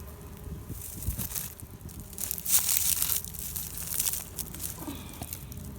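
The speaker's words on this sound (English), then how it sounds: "That's squashing the brood big time." Australian stingless bee brood being squashed while a hive is split into brood boxes: close, uneven crunching and crackling with wet, crushing textures in irregular bursts.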